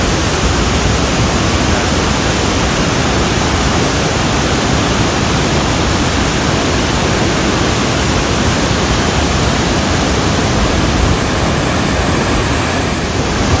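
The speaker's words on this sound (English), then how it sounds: "Waterfalls all around." Waterfalls roar all around at Plitvice or Krka in Croatia, a dense, steady broadband rush of falling water that stays loud and unbroken throughout, with no voices.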